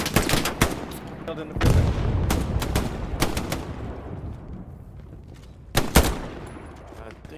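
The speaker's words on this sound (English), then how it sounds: "MG's trying to shoot me." Machine gun fire in the Hell Let Loose video game: sharp, loud bursts of rapid shots in uneven clusters, some near and some more distant, with echoing battlefield noise between them and someone talking over the fire.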